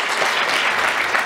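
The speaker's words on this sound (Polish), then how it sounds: "teraz czas na gorące brawa dla wszystkich nominowanych" An audience at a charity awards gala breaks into warm, dense applause for all the nominees, a steady, full wash of many hands clapping with no voices over it.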